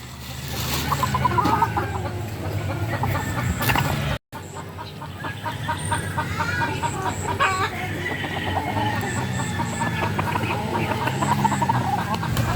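Several chickens, including aggressive broodcocks, cluck and squawk continuously close by, with occasional louder calls over a steady background of farmyard noise.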